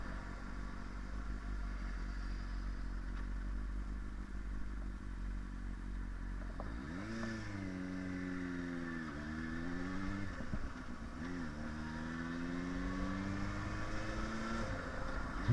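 A motorcycle's combustion engine idles steadily in cold weather with a low continuous rumble, then revs up and down several times, rising and falling in pitch, close by with no talk.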